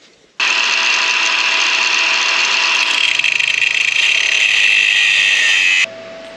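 A galvanized fitting is welded with stainless wire. A loud, harsh, continuous crackling buzz starts abruptly, holds steady for about five seconds, then cuts off sharply, close up and without speech.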